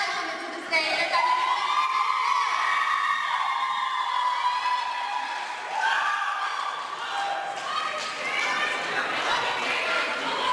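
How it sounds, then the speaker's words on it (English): A crowd at a high school slam poetry event claps, whoops and cheers loudly, with shouting voices and chatter mixed into the applause throughout. "Everybody applaud that for us"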